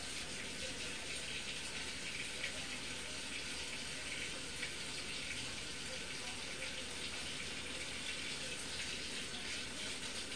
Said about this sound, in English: Don't you just hate having to wait for the hot water to come out?